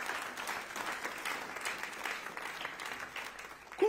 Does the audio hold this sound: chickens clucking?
no